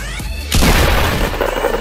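Missile explosion in Fortnite: a sudden heavy boom bursts in about halfway through, followed by a crackling, rumbling decay that stays loud to the end.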